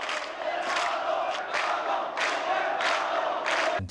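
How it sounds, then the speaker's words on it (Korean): A huge crowd of office workers and citizens roars in front of Myeongdong Cathedral in Seoul during the June 1987 democracy protests, with swelling waves of shouting repeating steadily and filling the whole stretch. "명동성당 앞으로 몰려나온 직장인과 시민들이 외치는 함성은 거대한 파도를 이루었다."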